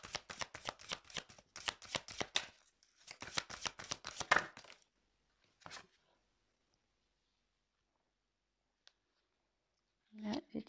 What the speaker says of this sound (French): Là, j'ai tiré la carte